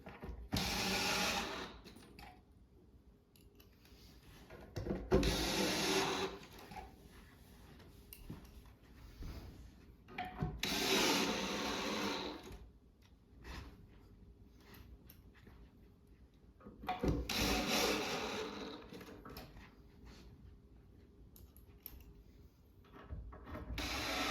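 Screws are driven by hand into pre-drilled holes in the wood of a farmhouse corner wall cubby coat rack, heard as repeated bursts of close, grinding ratchet-like clicking separated by quieter pauses of handling and rubbing.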